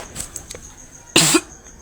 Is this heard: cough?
yes